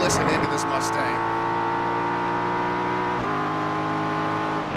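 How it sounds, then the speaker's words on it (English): A Ford Mustang GT race car in a sim racing game at Silverstone drones loudly and continuously at high revs, a steady engine tone with a gear shift partway through. "And just listen into this Mustang."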